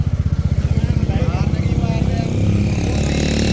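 A motorcycle with a punctured tyre, on the pilgrimage route to Hemkund Sahib, thumps in fast, even close pulses, then its beat smooths out into a louder steady run, heard near and prominent, with speech over it.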